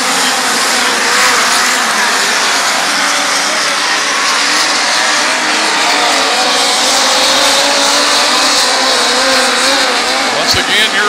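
Power I midget race cars roar around the Valley Speedway oval, their loud, steady engine drone swelling and fading as the field runs high along the rim, with an announcer talking over the racing throughout.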